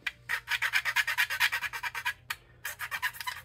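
A scraper is drawn in rapid repeated strokes across the surface of a Monogram Typhoon plastic model kit to level an overlap on the leading edge, giving a close, rhythmic rasping with one short pause partway through.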